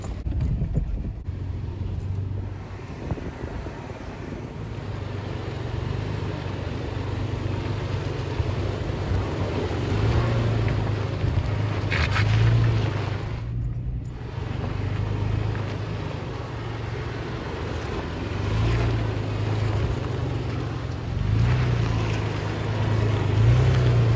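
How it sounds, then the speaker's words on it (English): Steady low engine drone of a vehicle on a dirt trail during a camping trip, a continuous rumble that swells and fades slightly as it comes near, with no talking. "I hear a vehicle coming"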